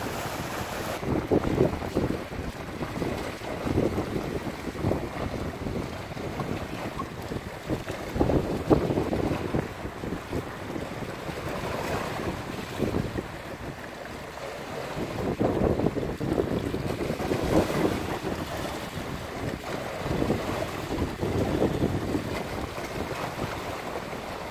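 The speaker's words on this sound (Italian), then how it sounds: "Soffia un forte vento." A strong wind blows along the shore of Lake Garda, a continuous roar that rises and falls in gusts and buffets the microphone, with faint lapping water underneath.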